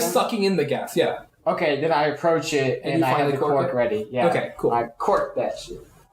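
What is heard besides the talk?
No everyday noise stands out behind the speech.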